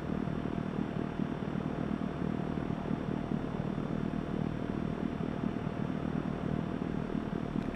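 Mooney single-engine propeller airplane in a flight simulator, a steady, loud droning engine hum with constant pitch throughout, no talk over it.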